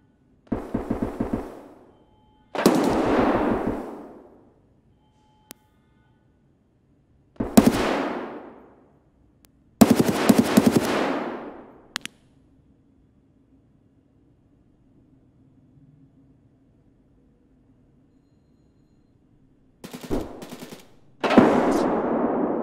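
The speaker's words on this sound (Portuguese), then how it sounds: "Esse tiro foi daqui." MP7 submachine gun fire in the shooter game Escape from Tarkov: several sharp bursts of rapid automatic shots, loud and close, separated by quiet gaps and a faint low hum.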